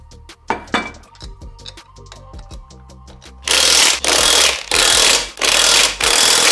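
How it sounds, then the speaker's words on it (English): A wheel is fitted onto a Nissan 350Z hub that has an angle kit, with light metallic clinks and taps at first, then several loud, sustained rushing bursts close by. "Let's go ahead and throw the wheel on and see how far it pokes out."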